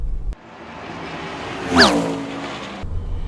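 An old Suzuki Jimny is driven at full throttle on a ring road, giving a steady engine and road roar with a brief squealing chirp that swells and fades near the middle. No one speaks.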